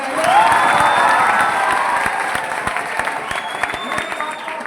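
Loud, sustained applause from a large audience at a motivational lecture for students in Patna, dense clapping with some cheering that fades slightly toward the end.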